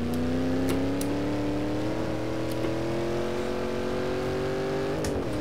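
Shelby Cobra engine in the racing game Assetto Corsa, driven on vintage tyres, drones loudly and steadily with a slowly rising pitch as it pulls through the gear, then dips briefly near the end.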